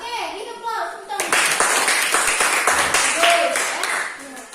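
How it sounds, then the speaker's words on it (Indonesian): A classroom group breaks into a burst of hand clapping after a voice, with brisk close applause that stays lively for several seconds before tapering, while people talk over it. "ini applause, tepuk tangan"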